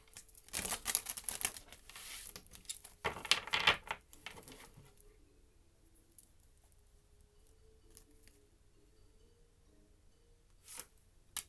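A deck of tarot cards gets a final shuffle, giving a few seconds of quick, crisp riffling and flapping up close, followed by near silence with a few faint taps.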